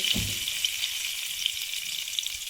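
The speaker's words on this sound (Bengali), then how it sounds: "কড়াইতে তেল দিয়ে দিচ্ছি, কটা ভেজে নেব" Oil sizzling steadily in a kadai as something fries for a fish curry, a dense close hiss with faint crackles and one brief low knock at the start.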